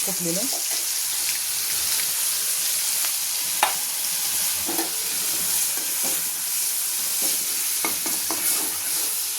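Cumin and chili sizzle in hot oil, a steady bright hiss with occasional stirring clinks and scrapes, with faint voice and background noise beneath.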